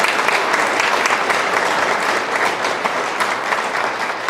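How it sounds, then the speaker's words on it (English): An audience applauds steadily at an award presentation honoring their administrator: dense, sustained clapping from a sizable crowd that stays loud and even throughout, with no talking over it. "So one more round of applause for our administrator."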